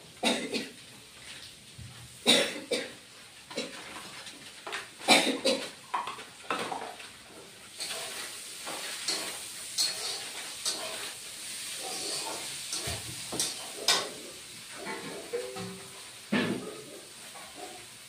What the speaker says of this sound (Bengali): লঙ্কা বাটা দিয়ে দিলাম